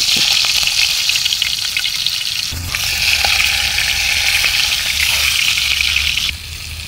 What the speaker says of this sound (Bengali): মাছ ভাজি হয়ে গেছে এটা নামাই ফেলি